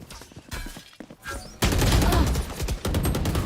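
Rapid bursts of gunfire from the video game Valorant crack out loudly in a tournament match, with a quieter opening stretch followed by a dense, sustained volley and caster commentary faintly underneath.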